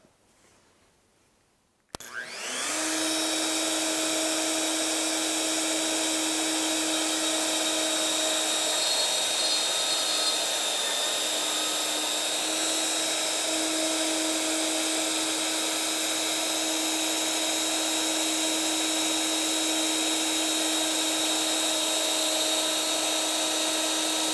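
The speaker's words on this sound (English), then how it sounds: "then I'm going to route out in between and turn around and do that same process on the opposing piece" A router cuts wood for a floating mortise and tenon joint, spinning up abruptly and then whining at a loud, steady high pitch for over twenty seconds, close by.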